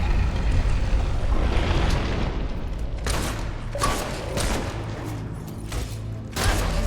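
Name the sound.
gunfire in the video game Fable III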